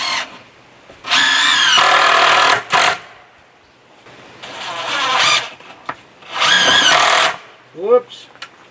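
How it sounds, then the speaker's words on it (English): A power drill drives screws into timber wall framing for a cabin under construction, running in three sustained whirring bursts with short pauses. It is loud and close, with a brief voice near the end. "so let's put a couple of screws in there to hold that."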